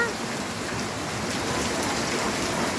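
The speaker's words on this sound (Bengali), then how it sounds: "সবাই দেখুন বৃষ্টি, কি সুন্দর বৃষ্টি" Steady rain falls with a continuous broadband hiss, unbroken and fairly close, with no voices.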